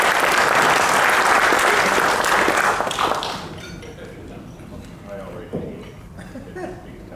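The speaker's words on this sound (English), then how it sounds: "Give him a big round of applause," An audience at a presentation gives a presenter a burst of loud applause that lasts about three seconds and then drops away, leaving a quieter room with scattered taps and thuds.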